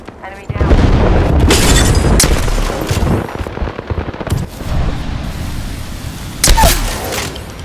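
Enemies shoot in an Apex Legends fight, bursts of loud automatic fire and booming impacts coming close and fast, with a heavy blast near the end and voices speaking under the shooting.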